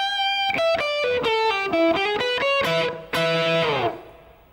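Short blues shuffle lick on overdriven electric guitar with effects, a quick run of descending notes, a brief gap, then a swept phrase ending on a ringing held note that fades, played alone and up close.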